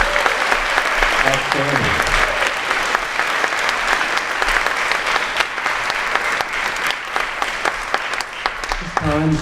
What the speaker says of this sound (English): Big round of applause for our 3 inductees.